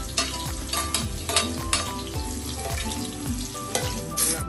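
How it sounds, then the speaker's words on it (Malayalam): Green and red chillies frying in hot oil in a pan for a country-style boti curry, stirred steadily, with a dense continuous sizzle and repeated scraping strokes throughout, no talking. "നമുക്ക് നല്ല രീതിയിൽ ഇളക്കി കൊടുക്കാം"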